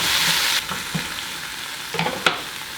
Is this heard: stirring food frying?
yes